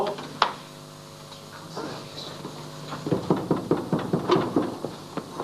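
Knocking on a door in a Pakistani TV drama scene: after a few quieter moments with a faint background tone, a run of rapid, close knuckle raps sounds in an uneven rhythm.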